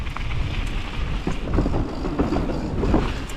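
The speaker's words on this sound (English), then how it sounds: "it's pretty windy today" Strong wind buffets and roars against the microphone in uneven gusts on a trail in Lugnet, Falun, with a low rumbling rush throughout and no voices.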